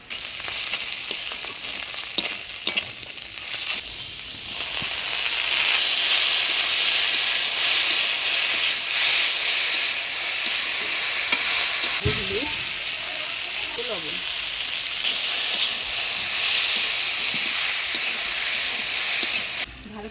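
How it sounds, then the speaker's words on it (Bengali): Dried fish stir-fried with onion, chili and garlic in a pan makes a loud, continuous sizzling hiss, with occasional scraping stirs across the whole stretch. "ভালো করে নাড়াচাড়া করে নেব পেঁয়াজ লঙ্কা রসুনের সাথে শুটকি মাছটা ভালো করে ভাজা ভাজা করে নিলাম"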